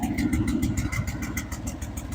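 A 1978 Chevy K-10 truck engine idles a little high, a steady, throbbing low rumble with an even pulsing rhythm, heard close and alone.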